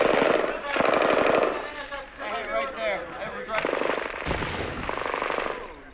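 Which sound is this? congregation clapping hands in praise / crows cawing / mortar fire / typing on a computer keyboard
mortar fire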